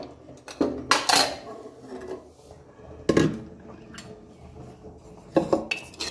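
A pressure cooker opened after cooking a runny potato curry, with sharp metallic clanks of the steel lid and pot plus clattering cutlery in several loud bursts between quieter handling.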